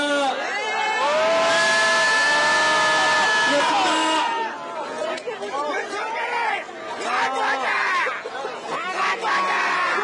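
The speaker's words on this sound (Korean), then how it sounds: "입장 함성으로 마치겠습니다" Crowd of about a thousand people at an evening vigil in South Korea supporting forced labour victims, cheering and shouting together in a loud, sustained roar that breaks into scattered whoops and chatter.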